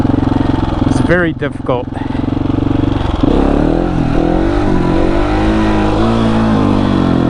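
A KTM 701 motorcycle engine in first gear, loud and close, its pitch climbing and falling through several revs over a steady rumble, with a brief spoken remark early on.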